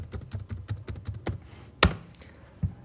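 Numbers being typed on a computer keyboard while entering data in an Excel spreadsheet, a quick run of light key taps followed by a couple of louder, separate keystrokes, close up.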